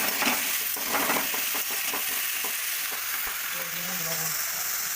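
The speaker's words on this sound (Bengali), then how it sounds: "এবার এটা ভাজা হবে।" Steady, loud sizzling of cauliflower, peas and green chillies frying in a pan, with a continuous hiss and occasional stirring clinks throughout.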